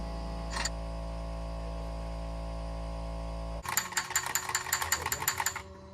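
A ratchet backs out two 10mm bolts from the plastic timing cover of a 1.9 TDI AHU engine, a rapid run of close clicking bursts after a steady hum.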